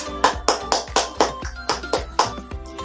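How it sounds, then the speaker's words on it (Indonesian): A classroom group claps for group 3 in a brisk, evenly spaced rhythm of about a dozen sharp claps in under three seconds, close by and with no talking. "Kita beri tepuk tangan untuk kelompok 3"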